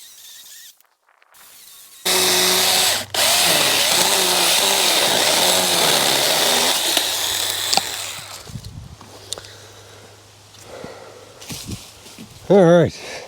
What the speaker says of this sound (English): Not bad for a little 6-inch chainsaw.